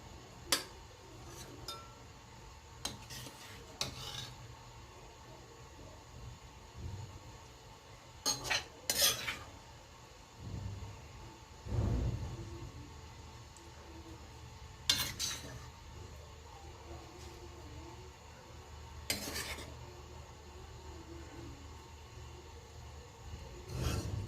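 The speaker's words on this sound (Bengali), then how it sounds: "এবার কড়াই থেকে তুলে নিচ্ছি সার্ভ করার জন্য।" Hilsa head and bottle gourd curry is served from a wok. A metal spoon scrapes and clinks sharply against the pan at irregular intervals over a quiet background.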